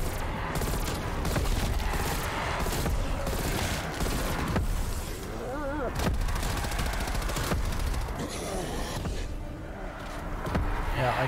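M82 sniper rifle shots ring out during a zombies Outbreak boss fight, sharp heavy reports recurring through a dense, continuous wash of gunfire, explosions and game noise, with occasional talk under it.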